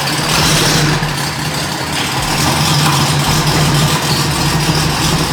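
A tuned race car engine idles in a workshop, a loud, steady, close low rumble with a slightly uneven lope that holds throughout without any talk.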